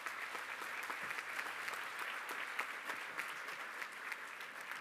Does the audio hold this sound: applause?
yes